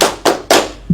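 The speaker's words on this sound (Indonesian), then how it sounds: "Kalau kau suka hati tepuk tangan." Classroom group clapping hands along to a children's song, three sharp evenly spaced claps close by with a softer fourth at the end, no voices.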